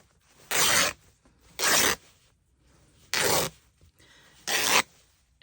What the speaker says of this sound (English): I'm just going to snip it here, there, and tear this